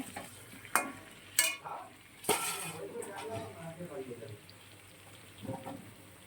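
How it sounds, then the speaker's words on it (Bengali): Vegetables fry in a pan, a soft sizzle broken by several sharp scraping clacks of stirring near the start and a few more toward the end. "দেখো সবজিগুলো কিন্তু খুব ভালো করে ভাজা হয়ে গেছে।"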